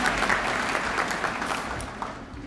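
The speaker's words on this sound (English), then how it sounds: "please give him a small round of applause" Audience applause after an interim academic senator is introduced at a medical oath ceremony, a steady dense wash of many hands clapping, fairly close and continuous throughout.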